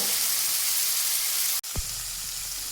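Cluster beans fry in a hot pan with a steady, close broadband sizzle, interrupted by one brief dropout before the hiss resumes.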